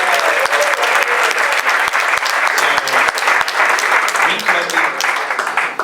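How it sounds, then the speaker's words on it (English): A room of attendees at a Miami tech meetup gives a sustained round of applause, sharp individual claps layered in a steady crowd wash with a few faint voices underneath. "So let's give WinCode a round of applause."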